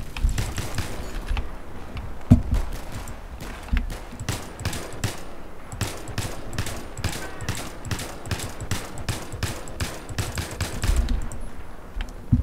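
Battlefield 3 gunfire: rapid bursts of automatic fire and single shots crack in irregular clusters over a steady game background for the whole stretch, with no talking.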